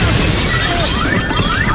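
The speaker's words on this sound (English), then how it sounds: "Douglas fights back, smashing Tom's head into a car window" Car window glass shatters loudly as a head is smashed into it during a film fight scene, a brief dense crash of breaking glass.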